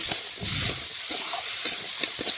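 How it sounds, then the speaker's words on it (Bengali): Ginger, cumin and green chili paste with turmeric and salt are stirred in a hot pan: a steady hiss of frying with a few quick scraping strokes, close up and without talk. "নাড়াচাড়া করে ভালোভাবে সমস্ত উপকরণ মিশিয়ে নিচ্ছি।"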